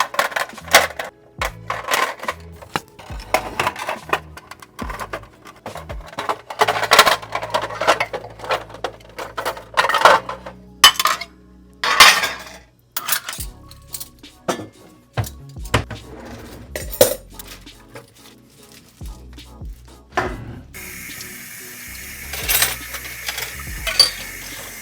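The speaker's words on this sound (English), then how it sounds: "There's a lot of dishes today" Dishes, pots and cutlery being washed in a kitchen sink: irregular clinks, clatters and scrapes of metal and crockery, with bursts of running water, close and loud, without speech.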